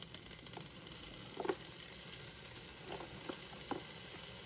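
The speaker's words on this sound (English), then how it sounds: "we're doing our ham first because we want to get that a little bit toasty and get some of that nice ham fat rendered out" Diced ham frying in a pan as the first step of fried rice, giving a steady, fairly quiet sizzle with a few soft stirring clicks and scrapes, and no talking.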